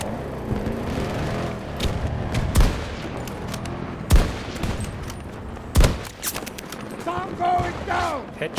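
Gunfire in the video game Battlefield 2042 comes as several loud single shots and short bursts, some booming, spread across the clip over game background noise, with someone talking in between.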